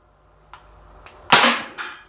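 A KWC M1911 non-blowback CO2 pellet pistol fires several sharp, close pops spaced about half a second apart, the later shots loudest, with quiet gaps between them and no talking.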